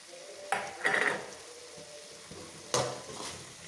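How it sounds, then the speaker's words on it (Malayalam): Paneer cubes dropped into a frying soya pepper masala in a pan, with two sharp clattering stirs of a spoon against the pan over a soft, steady sizzle and no talking. "പനീറിട്ടൊന്ന് ഇളക്കി"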